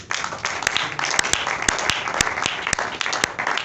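Church congregation applauding to acclaim the Lord, a dense, sustained round of clapping from many hands at close range with some louder individual claps.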